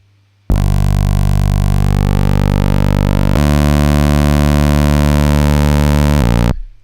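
Distorted synth tone in a music production tutorial, a sustained buzzy note whose tone shifts as an EQ band is swept, then a brighter steady section before cutting off.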